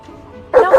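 A dog barks in two quick loud yaps near the end, following a stretch of quiet murmuring background at an airport.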